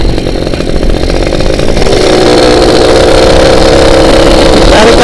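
A Suzuki Satria two-stroke motorcycle engine revs hard and very loud, close up, its raspy buzzing tone climbing in pitch over a few seconds as the throttle is held open.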